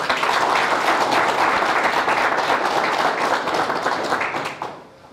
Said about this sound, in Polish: I to właściwie dla niego są te oklaski